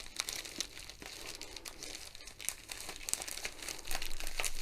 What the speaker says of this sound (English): and just cut right along the bag